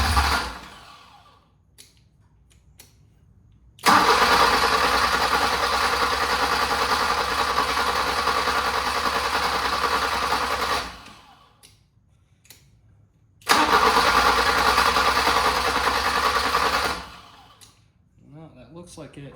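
BMW E30 318i with a manual gearbox, cranking and firing up: two long sustained bursts of steady engine running, each about seven and four seconds, separated by quiet gaps with faint clicks and handling noises.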